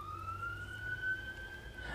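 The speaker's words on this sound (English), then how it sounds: "Can you hear the sirens?" A police siren wails steadily in the distance, a thin rising tone over low background rumble, with no voices.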